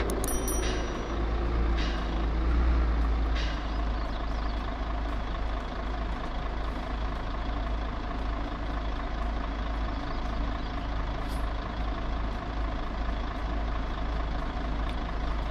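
Truck in a truck driving simulator game, a steady low engine rumble with short air brake hisses and a few beeps early on, continuous and close.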